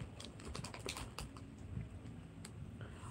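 Rapid typing on a computer keyboard at close range, a dense run of light clicking keystrokes over a low room background, with no voices.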